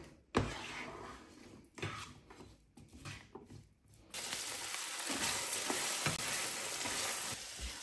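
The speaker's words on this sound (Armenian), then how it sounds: "Ու ինչպես ասեցի, մի փոքր պետք է տապակենք։" Oil sizzles as peppers fry, with a few clanks and scrapes of stirring at first, then a steady, loud hiss for the rest.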